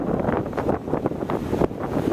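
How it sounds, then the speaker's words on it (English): A big outdoor gust of wind buffets the microphone in a steady, rough roar that swells and dips over a couple of seconds, with no talking. "We just had a big gust of wind come up."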